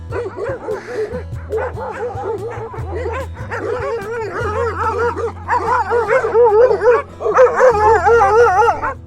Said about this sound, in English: So we're cycling uphill and some dogs just discovered us.